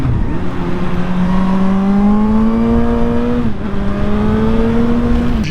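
A Suzuki GSR 750 four-cylinder motorcycle pulls hard under steady acceleration, its engine note rising smoothly through the revs, with a short drop at a gear change before climbing again, loud and close with heavy wind rush.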